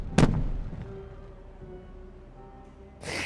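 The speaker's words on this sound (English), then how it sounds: "Maybe they're refilling them with some fireworks and then they're going off." Fireworks go off in the beaver city-building game Timberborn, opening with one loud, close boom that rolls off into a long fading rumble, followed by a softer burst near the end.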